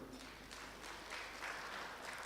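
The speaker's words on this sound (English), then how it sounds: "So you can clap for Nita" Faint, distant clapping from an audience at a closing ceremony, a soft continuous patter of hands heard from far off.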